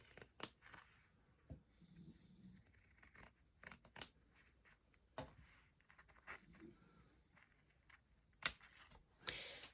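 Scissors cut punch needle fabric for a garland at an angle, giving quiet, sharp snips and brief crisp clicks spaced irregularly, with faint fabric rustling between cuts in a hushed room.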